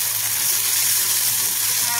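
Bitter gourd leaves frying in a hot pan, giving a loud, steady, dense sizzle that holds evenly throughout with no voices.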